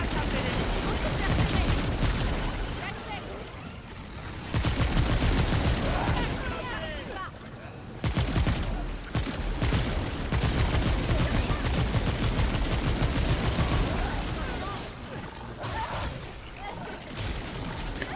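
Weapon fire in the video game Remnant 2: dense, loud bursts of rapid shooting and crashing impacts run almost continuously, broken by short pauses, with people talking over the action.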